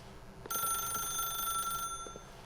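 A telephone bell rings in The Stanley Parable, one sustained bright metallic ring lasting over a second after a short click, then fading to quiet room tone.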